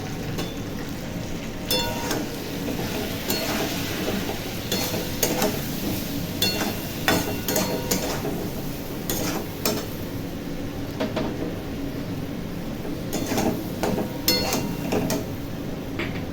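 Turmeric, chili powder and ground cumin-coriander paste sauté in a kadai for a fish curry, giving a steady close sizzle broken by repeated clinks and scrapes of a stirring spatula.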